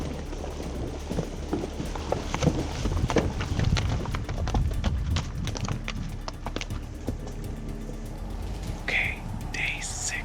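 Horses crossing a river during a moose hunt, their hooves clopping and splashing irregularly at close range for about ten seconds, with soft wet movement, a few bright knocks and no clear talk.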